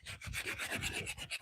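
Hand sanding on a woodworking project makes a close, rhythmic rasping, with quick back-and-forth strokes repeating about every fifth of a second, soft and steady with no talking.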